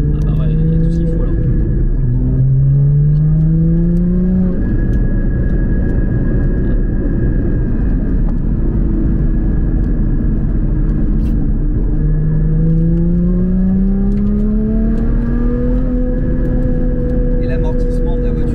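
A Porsche engine revs while driving, its rising and falling drone climbing in pitch through two accelerations, loud and close inside the cabin, with people talking over it.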